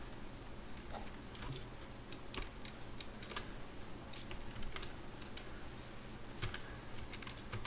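Faint, close typing on a computer keyboard, a steady patter of light key clicks at an even pace over a low background hum, with no talking.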